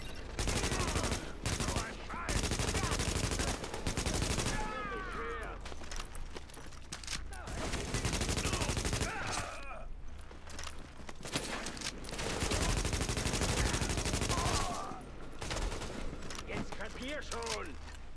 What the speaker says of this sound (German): Warnung, Ware wird beschossen.